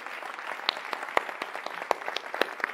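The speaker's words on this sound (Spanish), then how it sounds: "los quiero felicitar y volverles a pedir un aplauso para todos ustedes" An audience applauds students at an ethics and technology debate, with a soft, steady patter of clapping and a few sharper individual claps standing out nearby.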